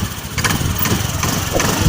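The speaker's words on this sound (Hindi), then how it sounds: "ये गाड़ी चालू हो चुकी है। आवाज़ आपको सुनाई देता होगा।" A Honda Activa 5G scooter engine idles close by, a steady, even putter with no other sound over it.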